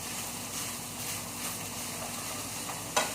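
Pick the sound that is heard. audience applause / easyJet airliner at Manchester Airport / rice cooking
rice cooking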